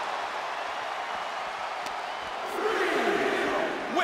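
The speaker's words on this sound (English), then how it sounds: "The sound of this crowd is deafening, and he's asking for more." A wrestling arena crowd during a tournament match roars continuously, the noise swelling louder partway through, a dense, distant wash of cheering.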